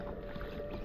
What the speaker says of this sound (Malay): Tu yang aku pasang motor ni.